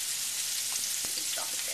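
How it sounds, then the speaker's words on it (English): Steady, hissing sizzle of scallops searing in a hot pan with a splash of wine added, a continuous bright crackle with a few small pops, close and moderately loud. "we'll add a little bit of wine to the pan"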